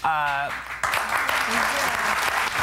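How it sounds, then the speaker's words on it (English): Studio audience applause on a daytime talk show, a short burst of clapping that follows a brief spoken voice and carries on to the end. "You got to keep clapping for yourself."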